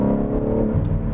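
A BMW M3 Touring engine in Sport Plus mode revs hard and steadily with a deep, continuous roar, close up and loud throughout, with no talking.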